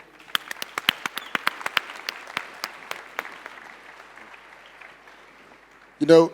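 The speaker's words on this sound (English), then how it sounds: "Ladies and gentlemen, a round of applause for your leadership." Applause for leadership at an Ignite 2019 Q&A session: a few separate hands clapping, sparse and thinning out over several seconds, followed by a brief burst of voice at the end.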